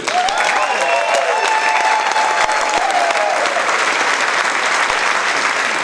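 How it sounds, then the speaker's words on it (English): A crowd at an Ellensburg royal court event gives loud, sustained applause for the 1960 queen, dense clapping heard up close throughout, with a faint voice briefly underneath. "we're going to end tonight with a big round of applause for our 1960 Queen, Mary McNamee Super."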